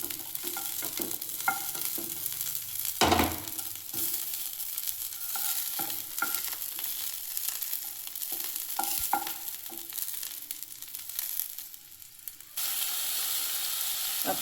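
Tomatoes and garlic cloves cooking in a pan for tomato soup, a soft steady sizzle with scattered stirring scrapes and a brief louder clatter early on, quiet and close with no talking.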